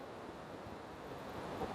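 Ocean surf at Baga Beach, Goa, a faint, continuous wash of waves mixed with wind rumble, distant and with no voices.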